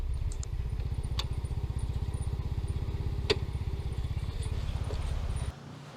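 A parked motorcycle's engine idles close by with a steady, rapid low putter and a few light clicks, then cuts off near the end.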